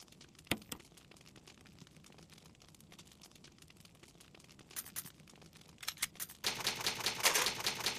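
A typewriter save in Resident Evil Remastered clacks in irregular keystrokes, at first sparse and quiet, then rising into a dense, louder burst of rapid strikes and a final mechanical rattle.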